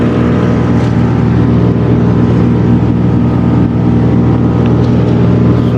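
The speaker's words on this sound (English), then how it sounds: "Got the tractor down the bottom, cutting it back." A tractor cutting back overgrown vegetation across a large area, its engine droning steadily and loudly throughout with a constant low rumble and no pauses.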